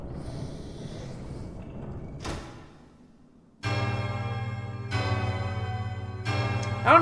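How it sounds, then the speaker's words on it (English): Bell struck in Hollow Knight: Silksong, ringing out as a loud, bright metallic tone at about 3.6 seconds and struck again twice more, each strike sustaining a rich shimmering ring. "ring that sweet, delicious bell"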